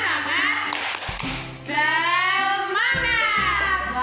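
Kindergarten children do a rhythmic spirit clap, with a few distinct hand claps mixed among loud chanting young voices in a close, lively classroom.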